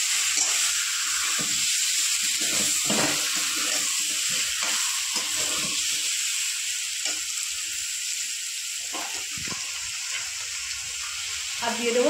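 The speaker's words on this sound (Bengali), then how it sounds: "ভালো করে মশলাগুলো কষিয়ে নেবো আলুর সাথে।" Spices sizzle loudly with potatoes and chopped tomatoes in a pan, a constant hiss broken by soft stirring scrapes throughout.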